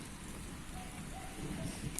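Rain falls steadily in a dense, even hiss that continues without a break, soft and moderately distant, with no voices over it.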